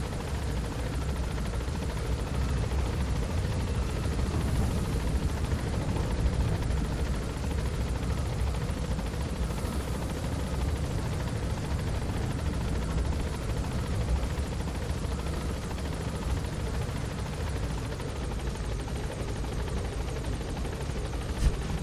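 A helicopter in the video game Metal Gear Solid V: The Phantom Pain flies low with a steady, loud rotor thrum and engine drone that holds constant throughout.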